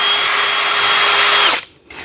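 A power drill with an 8mm bit bores out holes for a chicken nipple drinker, giving one loud, high, steady whine that spins down abruptly, followed by a short faint blip.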